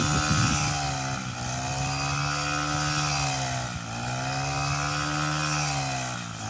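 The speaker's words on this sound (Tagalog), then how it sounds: "At yun naman yung makina na pagapas." A loud, close RC402 brush-cutter engine cuts rice in a paddy field, a steady high-revving two-stroke whine with two brief dips in pitch as the load changes. No voices are heard.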